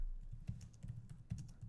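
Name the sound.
typing on a computer keyboard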